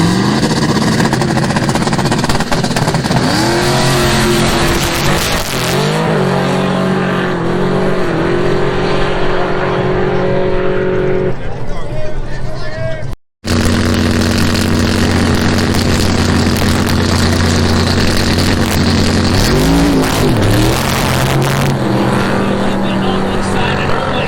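Race car with an LS V8 engine at Capital City Raceway, loud revving and roaring with rising and falling pitch across the clip, a brief dropout midway, with people talking over it.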